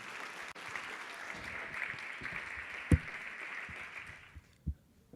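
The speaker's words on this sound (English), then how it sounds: "Huge round of applause, folks." Audience applause at a philanthropy luncheon for National Philanthropy Day, a steady roomful of clapping that carries for about four seconds before dying away, with a couple of sharp knocks standing out near the end.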